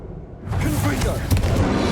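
A Confringo spell blast from Hogwarts Legacy bursts in after a brief quiet start, then becomes a dense, loud, rumbling fiery explosion with crackling texture.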